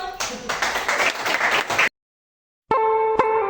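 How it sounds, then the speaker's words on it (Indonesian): Classroom applause for a group presentation, a dense burst of many hands clapping for about two seconds, then silence, followed by a couple of sharp claps over a sustained tone. "Silakan teman-temannya. Aplaus dulu."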